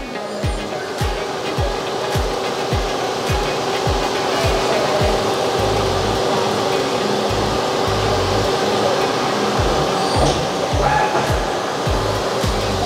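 A Mazak QT-EZ8M CNC lathe finish-turns the outside diameter of a part with a 55 degree turning tool, a steady machine hum and airy whir running throughout under a low rhythmic thumping, with no talking.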